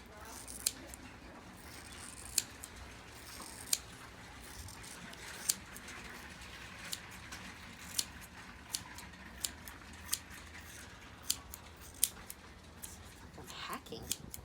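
Scissors trimming a horse's false tail: faint, scattered snips and clicks at irregular intervals over a soft, steady background.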